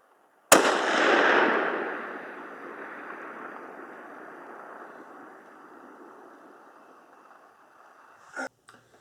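A single sharp rifle shot from a Send It 32 precision bullet test cracks loudly at close range, then rolls away in a long, fading outdoor echo lasting several seconds, followed by a brief faint noise.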